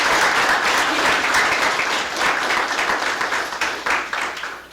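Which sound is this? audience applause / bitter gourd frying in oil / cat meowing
audience applause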